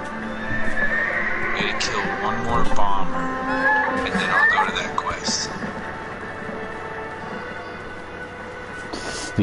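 Horse neighs and clip-clopping hooves in Black Desert Online, with a whinny rising near the middle over a busy game soundscape and speech throughout.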